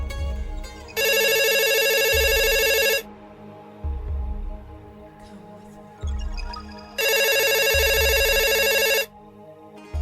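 Telephone ringing in a French-language audio story: two long electronic ring bursts, each about two seconds, separated by a quiet gap, with low background rumble between rings and no speech.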